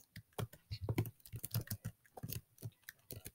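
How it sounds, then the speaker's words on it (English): Computer keyboard keys clicking rapidly during a Roblox gaming session, a close, dense patter of irregular key presses with bursts and brief pauses, quiet and without talk. "I'm pretty sure y'all can hear me clicking my keys right now"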